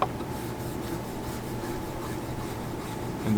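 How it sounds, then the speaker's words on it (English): A cotton tip scrubs a strain gage mounting surface wetted with conditioner, making a continuous soft rubbing, rasping scrape that stays close and fairly quiet over a low background hum, with no talking. "and then scrub that surface."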